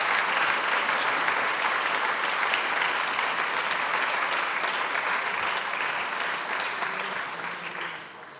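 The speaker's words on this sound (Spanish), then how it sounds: "nuestro querido Mario Vargas Llosa, por quien pido un fuerte aplauso" An audience at a book presentation in tribute to Mario Vargas Llosa claps loudly and steadily, dense sustained applause that fades slightly at the end.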